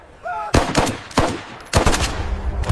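Bursts of rapid automatic gunfire, three loud volleys separated by short pauses, with a brief tonal beep before the first burst.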